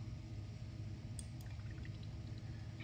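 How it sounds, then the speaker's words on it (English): Liquid being poured while making slime, a quiet, soft trickle heard close by with faint gurgling over low background rumble. "now I'm going to pour this"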